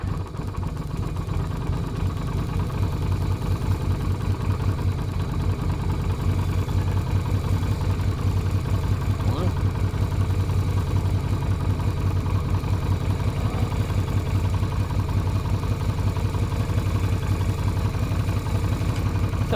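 A Yamaha Virago XV250 motorcycle engine fitted with pod filters idles steadily up close, a continuous low throbbing putter that holds an even level for the whole stretch with no voices.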